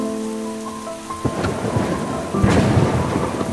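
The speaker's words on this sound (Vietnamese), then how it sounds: "Trời mưa rồi, mình mau tìm chỗ trú đi." Heavy cartoon rain pours down steadily while thunder cracks and rumbles twice, loud and close, over a fading musical tone at the start.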